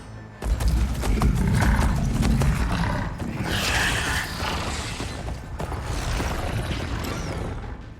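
Mounted machine riders in Horizon Forbidden West move in a loud, dense rumble of mechanical clanking, creaks and hoof-like clopping with growling roars, continuous and close throughout.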